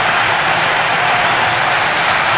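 Continuous crowd applause and cheering from a stadium crowd in the football video game PES 2012 (PES Brazukas 2012 mod), a dense, steady roar filling the whole stretch without pause, with no voices standing out.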